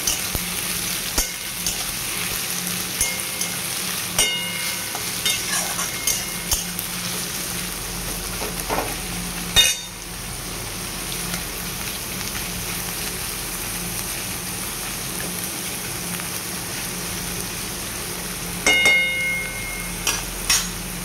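Onions sizzle in hot oil with sugar for a chicken kosha, a steady frying hiss that runs throughout, with occasional sharp clinks and scrapes of stirring.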